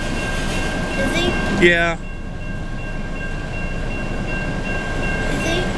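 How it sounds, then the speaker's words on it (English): Train passing on Swan Creek Road in Newport, Michigan, a steady rumbling roar of rail cars close by with a brief horn-like tone, while people exchange a few words over it. "Boy, first train on Memorial Day."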